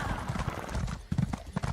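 A regular horse gallops in Elder Scrolls Online, giving rapid rhythmic clip-clop hoofbeats at a steady fast pace, moderately loud and continuous with game ambience beneath.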